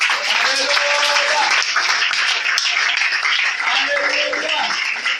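A church congregation applauds and cheers for Jesus. Loud, dense clapping fills the space without a break, and voices rise and shout under it throughout.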